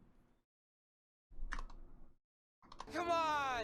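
Computer keyboard keys are mashed rapidly in a typing-speed test, coming as short bursts of dense clicking separated by silence. The final burst is louder and overlaid by a high, sweeping electronic tone.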